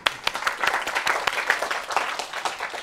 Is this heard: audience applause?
yes